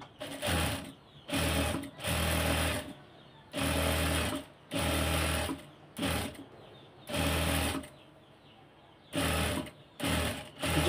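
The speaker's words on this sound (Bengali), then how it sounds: "এখানে একটা চাপ সেলাই দিয়ে দিব।" A sewing machine stitching lace onto a sleeve runs close and loud in several steady whirring bursts of one to two seconds, separated by short pauses.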